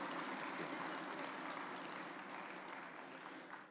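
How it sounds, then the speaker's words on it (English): Members of the Ugandan Parliament applaud the Speaker at an induction seminar, a steady wash of clapping from a large hall that is faint and distant and tapers slightly at the end. "Can we give the Right Honorable Speaker a round of applause?"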